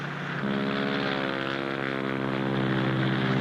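A propeller airplane drones steadily overhead, its engine hum growing slightly louder over a few seconds with no voices.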